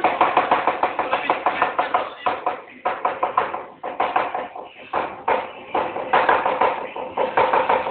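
An onion being chopped on a board, with fast, regular knife strikes in a rapid rhythm that briefly pauses and resumes, close and fairly loud.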